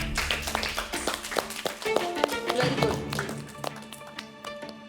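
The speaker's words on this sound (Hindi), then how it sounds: "एक बार तनीषा के लिए जोरदार तालियां हो।" Studio audience clapping on a reality game show, a scattered patter of claps mixed under steady background music and voices throughout.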